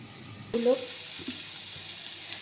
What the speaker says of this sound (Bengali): ওই জন্য আলুটা ভালো করে ভেজে নিই